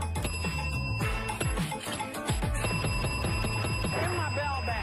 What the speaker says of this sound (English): I hate that bell. It's annoying.